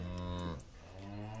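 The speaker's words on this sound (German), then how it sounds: "Und ich habe Kühe noch nie so muhen gehört wie hier." Cows on a farm in the green Northern Ireland countryside give a long, close, loud moo that breaks off midway and then carries on in a lower drawn-out tone.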